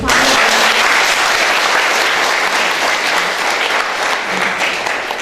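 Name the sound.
applause for Samir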